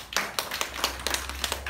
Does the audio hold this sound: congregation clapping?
yes